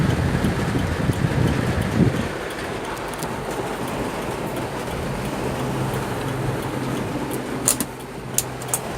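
Heavy rain and strong wind around Serpong make a dense, steady roar of broadband noise, loud and close throughout, with a few sharper gusts or spatters near the end.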